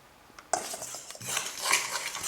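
A spoon scrapes and clinks against a bowl while cake batter for a strawberry Frasier sponge is mixed, with egg yolks, sugar, flour, starch and baking powder in it. A sharp knock comes first, then a steady brisk clatter of stirring, with no one talking.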